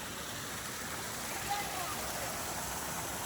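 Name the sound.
stream and waterfall flowing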